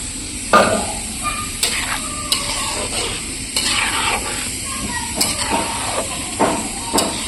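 Water pours into a hot pan of Assamese curry (aanja), giving a steady loud sizzling hiss with scraping stirs and clatters of a utensil throughout, close up.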